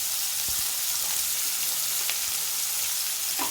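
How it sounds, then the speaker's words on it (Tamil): Chayote and onion sautéing together in a pan for a chutney, a steady broadband sizzle with a few soft clicks of stirring, close and continuous with no talk. "காய் இந்த மாதிரி கொஞ்சம் ப்ரௌனாக வதங்கட்டும்"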